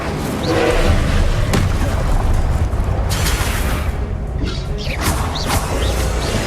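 The Incendio fire spell in the Hogwarts Legacy video game bursts out as a loud whooshing crash with a fiery roar, set within dense, continuous combat sound effects.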